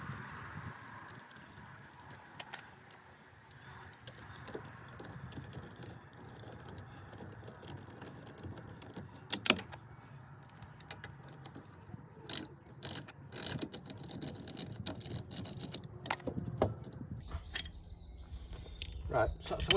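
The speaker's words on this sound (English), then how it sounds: "so just pop the wheel nuts off now" Caravan wheel nuts come off during a running gear service, with repeated close ratcheting clicks and metallic tool rattles continuing steadily over a soft background, birds chirping faintly outside.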